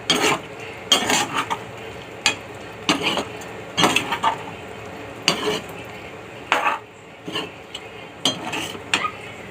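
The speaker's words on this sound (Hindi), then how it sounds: "अब इसको चला के 5 मिनट और रख देते हैं।" A spoon stirring chilli paneer in a metal pan, producing repeated close scraping and clanking strokes in an uneven rhythm with a faint sizzle underneath.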